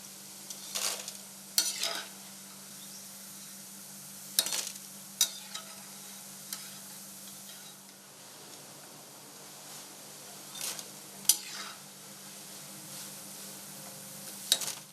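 Kunukku batter fritters frying in oil, a low steady sizzle under a background hum with sharp scraping and stirring clicks that recur every few seconds, close by and with no talking.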